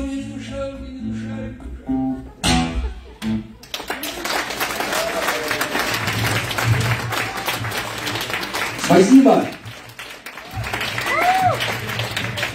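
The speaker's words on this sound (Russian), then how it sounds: "Можно еще раз, пожалуйста, аплодисменты." An audience at a winter poetry reading event bursts into sustained applause after a performance, many hands clapping steadily for several seconds, with a brief spoken thanks near the start and a voice speaking over the clapping later.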